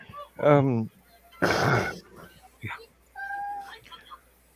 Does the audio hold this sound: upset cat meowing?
yes